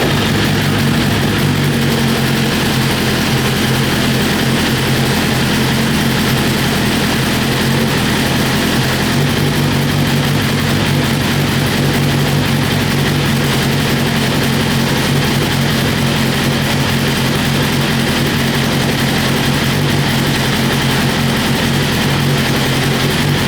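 A 2022 BMW S1000RR sportbike engine fired up after a rebuild from a wrecked state, running steadily and loudly throughout with a constant low-pitched drone and no change in revs, as if stuck without throttle response; nobody speaks.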